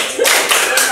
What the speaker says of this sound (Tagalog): Bigyan ng magaling na palakpak si Ate Juniliza.